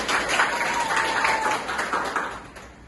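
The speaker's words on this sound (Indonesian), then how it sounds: "Tepuk tangan dulu untuk temannya." Students in a seventh-grade Islamic school classroom applaud a classmate during a fiqh lesson on tayammum, a steady burst of scattered clapping lasting a few seconds with faint voices mixed in.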